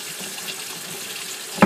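Water hissing steadily from a kitchen faucet's pull-out sprayer, a close, even rush of spray with a sharper splash right at the end.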